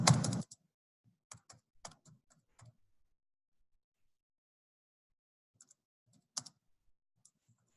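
Computer keyboard typing: a brief loud burst at the start, then sparse, soft, irregular keystroke clicks with long quiet gaps between them, close and alone.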